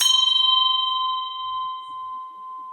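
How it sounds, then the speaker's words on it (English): An Om bell is struck once with a stick, giving a bright, clear ring that hangs on as a steady, slowly fading tone with a faint shimmer. "You can even use the stick"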